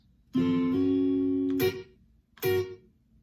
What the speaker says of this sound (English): next we are doing 2 up strums on that same chord,